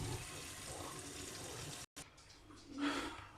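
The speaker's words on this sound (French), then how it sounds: "vous rincez la salade, vous nettoyez aussi" Salad leaves rinsed under a running kitchen tap, a steady broadband splash of water that cuts out briefly, then returns and swells louder near the end.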